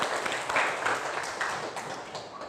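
Applause from a group during a classroom coaching session, a steady wash of many hands clapping at moderate loudness throughout, with no one talking over it.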